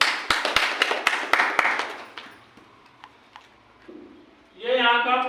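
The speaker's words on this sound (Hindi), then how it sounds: "जबरदस्त तालियां सर के लिए" Audience clapping for a speaker at a business presentation: a burst of sharp, scattered handclaps from a small crowd that thins out within about two seconds, followed by a voice.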